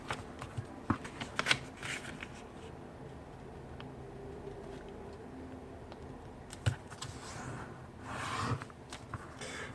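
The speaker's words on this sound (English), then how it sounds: "And then repeat the same fold for the other side." A sheet of paper is creased and folded into a paper airplane, giving soft rustling and crinkling throughout, with a few sharper crackles near the start and end, close by and with no talking.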